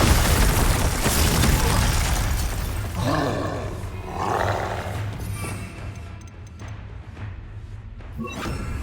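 Confringo and Bombarda spell blasts in the video game Hogwarts Legacy, loud booming bursts with a roaring rumble over a steady game soundscape, several impacts in quick succession, with no talking.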